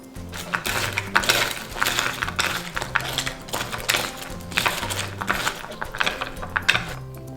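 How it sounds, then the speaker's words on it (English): Pan-fried Korean rice cakes (tteokkochi) being tossed in gochujang ketchup sauce in a large bowl: a steady run of close, bright clinks and scrapes, rhythmic and fairly loud throughout. "Place the rice cakes in a bigger bowl and coat the sauce over the rice cakes"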